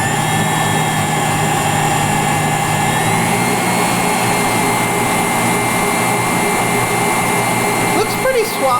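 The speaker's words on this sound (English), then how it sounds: "it's a really smooth sounding mixer, and it seems like it's kind of enjoyable to use" A Cuisinart SM-50 5.5-quart, 500-watt stand mixer with a plastic housing runs at a steady, smooth motor hum with a constant whine, loud and unbroken for several seconds before a brief rattle near the end.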